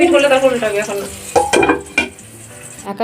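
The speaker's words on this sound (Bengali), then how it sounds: "এখানে আলু ভাজা হয়ে গেছে আর পটল ভাজা চলছে" Pointed gourd frying in a pan, loud and close, with a bright oily sizzle and a couple of sharp spatula scrapes and clinks near the end.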